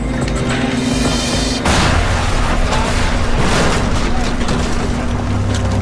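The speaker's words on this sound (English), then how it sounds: "an explosion rips through the remains of the plane" An explosion rips through the remains of the crashed Korean Air Flight 801 airliner: a sudden loud, broad boom bursts in early and keeps rumbling through the wreckage over steady background noise.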